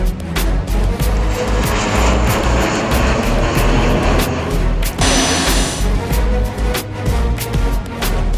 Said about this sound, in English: Pastor Apollo kicked off his 2013 North American tour on board with his private jet, which departed straight from the Kingdom's very own hangar